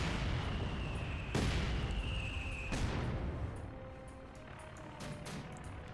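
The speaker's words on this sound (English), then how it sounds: "British infantry opening fire, tearing them apart, and slowly pushing them back." British infantry gunfire in Company of Heroes 2: sharp rifle cracks and heavier booms punctuate a dense, continuous battle roar, with one loud shot near the start and more scattered shots later.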